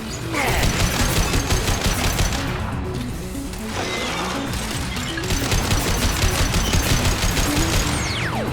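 Automated light weapon fire in Mass Effect 2: rapid, loud bursts of gunfire with crashing impacts, a brief lull near the middle, then dense fire again.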